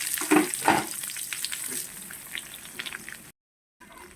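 Small shallots and mustard seeds crackle and sizzle in hot oil for a spinach stir-fry, with a few sharp pops early on over a steady hiss that cuts out briefly near the end.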